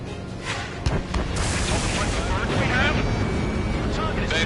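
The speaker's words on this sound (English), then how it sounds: "Missile!" Missile explosion in the jet-combat video game Ace Combat 7, a dense, sustained roar with a sharp burst near the start, set over constant engine and battle noise.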